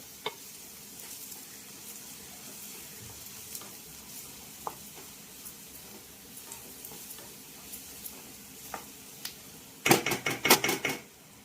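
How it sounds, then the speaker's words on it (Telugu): Ginger garlic paste frying in a pan for an Andhra-style spicy prawn curry, with a soft steady sizzle, scattered utensil clicks, and a short burst of louder scraping and stirring near the end. "శుభ్రంగా అల్లం చిల్లిపాయ పేస్ట్ కూడా వేగనిద్దాం"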